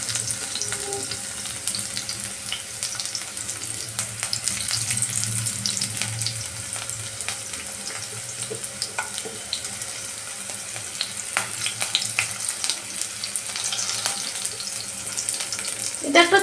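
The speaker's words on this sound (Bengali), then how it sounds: "রিফাইন্ড অয়েলটা অলরেডি গরম হয়ে গেছে, তাই জন্য আমি এখানে প্রথমে পেঁয়াজটা দিয়ে দেবো" Onions fry in hot refined oil with a continuous, moderately loud sizzle and light crackling. Occasional stirring and a soft watery hiss run throughout, with no voices.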